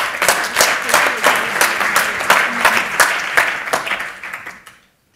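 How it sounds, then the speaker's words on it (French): Audience applause welcoming a guest speaker, a Patagonia community marketing coordinator, at a sustainable management forum: steady, dense clapping from a sizable crowd, fairly loud and close, fading out over the final second. "Un tonnerre d'applaudissements, s'il vous plaît."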